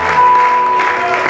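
A church congregation claps steadily and loudly throughout, a dense sustained applause with no pauses.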